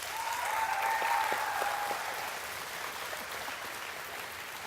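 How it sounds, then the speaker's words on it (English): An audience claps in a steady burst of applause that swells early and then tapers slightly, with a short tonal squeal over it at the start and no one speaking. "Y'all give her a round of applause."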